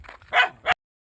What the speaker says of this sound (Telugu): ఇంకా సేమ్ వచ్చేటప్పుడు కూడా కుక్క మరుగుతూనే ఉంది